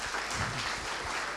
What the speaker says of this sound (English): Then another round of applause for this interesting talk.